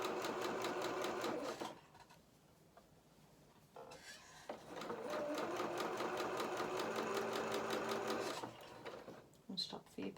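A sewing machine stitches fabric in two long runs of fast, rhythmic needle chatter, with a quiet pause between them and a few short bursts at the end.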